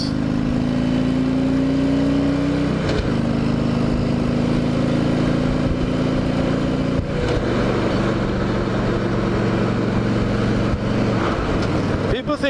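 Harley-Davidson Ultra Classic motorcycle pulling hard on an open road, its steady engine drone rising in pitch through each gear and dropping at two shifts, loud and continuous with wind noise throughout.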